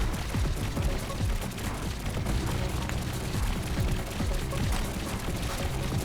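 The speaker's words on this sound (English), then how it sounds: "So we have our machine gun style cannons out here." Rapid, repeated machine-gun-style cannon fire in bursts with booming impacts, continuous mechanical gunfire from the video game Trailmakers, no talking.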